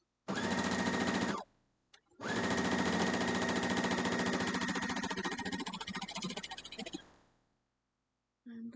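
A sewing machine stitches a quilt block in two runs: a brief burst of fast, steady whirring, a pause, then a longer run that sputters before stopping, with the motor starting again at the very end.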